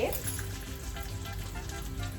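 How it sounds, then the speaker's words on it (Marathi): Curry leaves drop into hot oil with cumin for a tempering, giving a bright, steady sizzle and crackle that stays close and continuous, with no talking. "आणि लगेच मी त्याच्यामध्ये कढीपत्ता टाकते"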